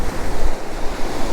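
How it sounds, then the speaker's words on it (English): Ocean waves break and wash onto a shallow shore near low tide, a continuous loud surf rush mixed with gusting wind noise on the microphone, no voices. "we got some, great wave action"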